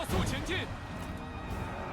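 Horse neighing on a battlefield in a Cao Cao historical strategy video game, a loud whinny at the start followed by a second shorter neigh, then steady battle noise underneath.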